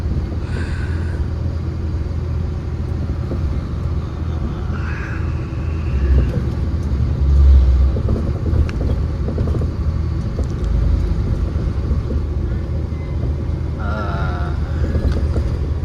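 Car driving on bumpy, wavy asphalt road, a continuous low rumble of tires and engine from inside the vehicle with occasional thumps and some wind noise.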